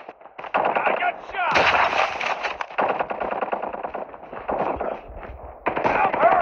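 Call of Duty Mobile team deathmatch gunfire on the Nuketown map, loud rapid automatic bursts and shots in near-continuous volleys with brief gaps.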